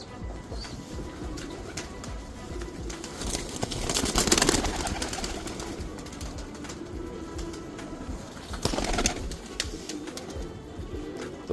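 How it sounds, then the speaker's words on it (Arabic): Red zulfinat pigeons, Baghdadi birds, coo softly and repeatedly in a loft, with occasional wing flaps and bursts of rustling noise over a steady background hum. "هاي طيور زلفينات بغداديات"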